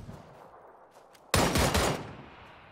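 Tommy gun fire in a video game, aimed down the iron sights, cuts in as a sudden loud, rapid burst lasting under a second after a few quiet background sounds.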